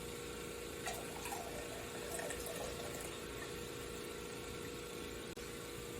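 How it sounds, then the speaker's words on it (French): Water from a tap runs steadily into a cup for a sports drink made with orange juice, a continuous close splashing flow lasting several seconds with no talk. "il suffit d'ajouter une tasse d'eau"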